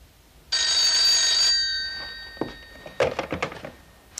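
A telephone rings once, loud and close, a bright electronic trill lasting about a second, followed by a few clunks and soft handling noises in a quiet room.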